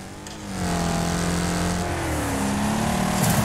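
Car engines racing in the video game Wreckfest, a weaker car with a bit more horsepower, loud steady engine drone with rising and falling pitch as it accelerates, continuous throughout with no talk.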